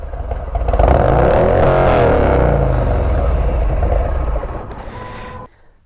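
A 2022 Harley-Davidson Road Glide S motorcycle with a 131 Stage 4 kit revs and roars loudly for several seconds, rising and holding before cutting off abruptly into quiet.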